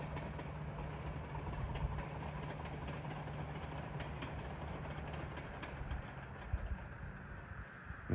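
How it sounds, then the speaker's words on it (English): A bulldozer works near a wildfire in Harlan, Kentucky. Its engine drones steadily and faintly from a distance, like a low, continuous idle with a slight knock. "That's a bulldozer."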